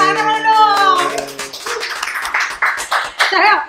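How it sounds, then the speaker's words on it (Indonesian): Studio audience applause breaks out on an Indonesian talk show, a dense burst of clapping that follows a sung or drawn-out voice, with people speaking over the end. "tepuk tangan dulu dong"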